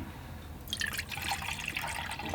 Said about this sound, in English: Let's get some fresh water.